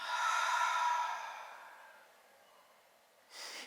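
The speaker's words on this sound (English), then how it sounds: "Last inhale. And exhale completely." A long, full exhale during yoga breathing starts strong and fades slowly over about two seconds into near silence, then a brief soft breath follows at the end.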